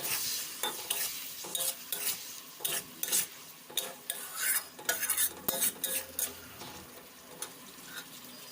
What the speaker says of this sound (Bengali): মশলাটি ভালো মতন কষিয়ে নিয়েছি।